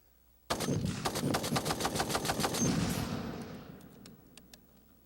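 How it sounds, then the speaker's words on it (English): Browning .50 caliber machine gun firing one sustained burst of rapid heavy shots, loud and close, then echoing away with a few scattered shots afterward. "meet his bigger brother, the Browning 50 caliber"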